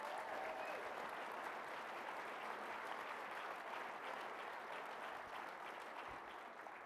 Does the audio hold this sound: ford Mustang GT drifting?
no